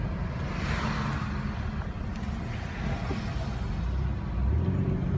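A car rumbles at an even, moderate level as it drives down a residential street of homes in Hamtramck, Michigan, with low road noise swelling slightly toward the end.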